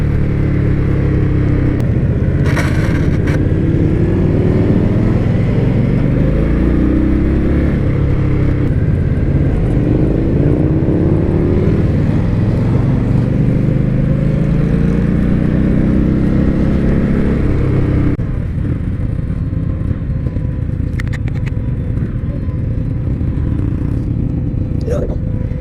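A 2020 Indian Scout Bobber motorcycle engine runs loudly and continuously, a dense rumble that shifts pitch as it revs, with wind noise throughout and a voice talking over it.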